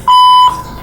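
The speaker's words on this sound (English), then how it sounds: "At the tone, please state your name, followed by the number sign." Conference call system prompt tone, a single loud electronic beep just under half a second long, clean and close, with a faint trailing hum.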